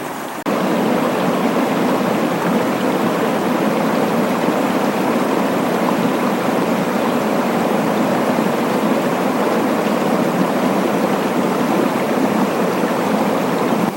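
A fast-flowing Smoky Mountains stream pours loudly and steadily, a dense, unbroken roar of rushing water heard close up and alone for the whole stretch.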